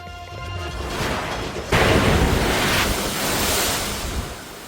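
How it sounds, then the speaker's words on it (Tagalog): Strong waves pound the coast of Iloilo City during Typhoon Uwan, a loud roaring surf with gusting wind buffeting the microphone and a heavy crash midway that keeps surging. "Malalakas na hampas ng alon ang naranasan sa ilang coastal barangay sa Iloilo City sa gitna po ng hagupit ng bagyong Uwan."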